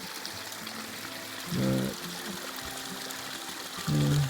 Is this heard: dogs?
no